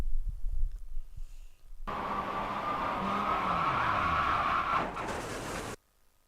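Road tyres on a race car in a racing video game, a loud steady rolling roar and hum with a rising whine as the car works through a long corner, cutting off abruptly near the end.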